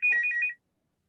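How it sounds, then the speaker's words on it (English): Telephone ringing during an interview, a short burst of repeated electronic ring tones lasting about half a second, moderately loud and close, followed by silence. "sorry, the phone's ringing."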